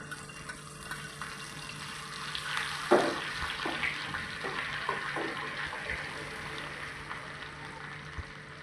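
Steady sizzling of chopped green chilies frying in hot oil in a wok, a soft continuous crackle with a few sharper pops near the start.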